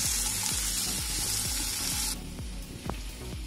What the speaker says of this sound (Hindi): लाइट ब्राउन होने तक हम प्याज को इसमें भून लेंगे।